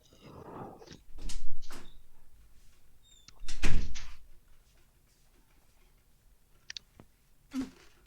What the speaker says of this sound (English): the sound on the mic of that door opening and closing was like that's something you could get from like a bank of sounds